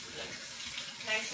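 Fresh-picked basil rinsed under a running kitchen tap, a steady close hiss and splash of water flowing without pause.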